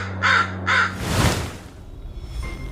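A crow caws twice in quick succession, fairly close, followed by rustling background noise.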